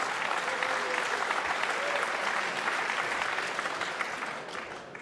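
A crowd applauds at the 2006 World Pool Championship final in Manila, a dense, steady roar of clapping that carries on throughout before thinning slightly at the end, with no talk over it.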